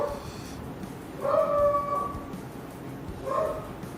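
A dog indoors lets out a few distant, whining howls and yips, two drawn-out vocal bursts separated by quiet room tone, faint and with no talk over them.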